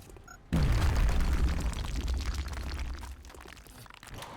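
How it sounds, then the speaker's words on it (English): A grenade detonates in XCOM: Enemy Within with a sudden deep boom, then crackling debris and a rumbling tail that slowly fades, loud and alone without talk. "Throwing grenade."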